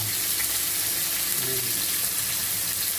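Shrimp sizzle and fry in a hot pan with pepper added, a steady, close, hissing crackle running evenly throughout.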